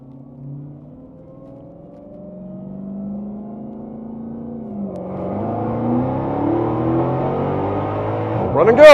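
A Dodge Demon 170 accelerating hard down a private runway in second gear, its engine note climbing steadily in pitch and growing louder toward a sharp peak at the end, with no talk heard.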